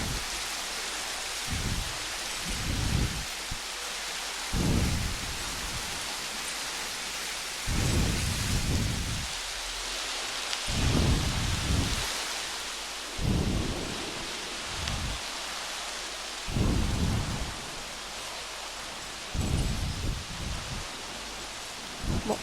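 Steady heavy rain pours in the video game Jurassic World Evolution, overlaid by repeated deep thunder rumbles rolling in every few seconds throughout the storm.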